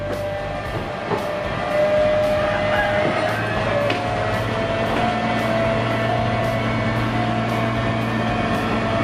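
A State Railway of Thailand multipurpose railcar hums and drones as it pulls away, a steady tonal whine over low rumbling, growing slightly louder after a couple of seconds.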